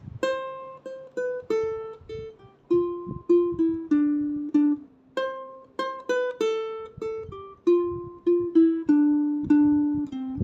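A piano plays the intro line of a song with chords, giving a clear, close melody of struck notes in a steady, flowing rhythm with no voice.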